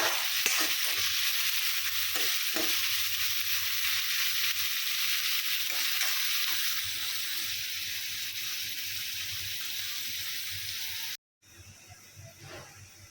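Ginger, garlic, onion and chili frying in a pan, a loud steady hissing sizzle with a few faint stirring taps, close by, cut by a brief silence near the end before the sizzle resumes.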